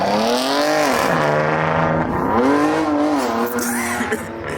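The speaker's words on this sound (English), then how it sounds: "He one wheel peeling like that?" A Dodge Hellcat Jailbreak does a one-wheel peel with a loud, close engine roar and a long tonal tire squeal that rises and falls as the revs swing, with voices faintly underneath.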